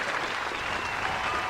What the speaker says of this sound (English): just giving you a little round of applause there